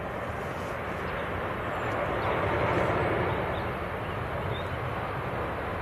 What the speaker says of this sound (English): A350 1000. Check this out, inbound from Doha.